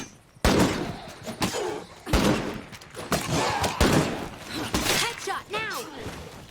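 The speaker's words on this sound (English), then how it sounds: "she's got a really loud weapon that's going to increase the amount of enemies we have to fight" Loud gunfire from a heavy weapon in a survival shooter video game, several sharp bursts spread across the clip amid game effects, with a person talking over much of it.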